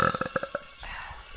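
A young woman gaming lets out a burp as a quick series of sharp, croaky pulses, loud and close, which trail off into quiet room noise.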